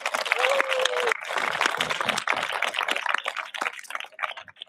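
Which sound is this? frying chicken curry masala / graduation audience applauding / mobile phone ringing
graduation audience applauding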